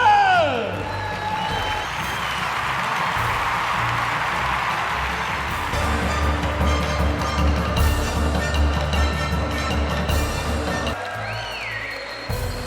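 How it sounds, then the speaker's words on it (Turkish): Crowd applause and cheering after a 100 kg wrestling bout: sustained, dense clapping from a large audience, with a few whoops and some talking over it. "Alkış!"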